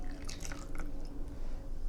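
Brewed ripe tea poured out for the first infusion from a Haiwan, a steady soft liquid splashing and trickling that runs continuously at close range, with no talking.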